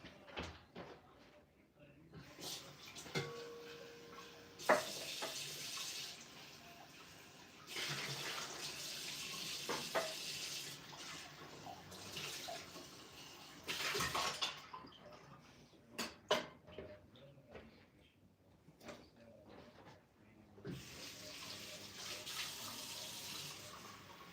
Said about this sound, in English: Let me rinse my shaker.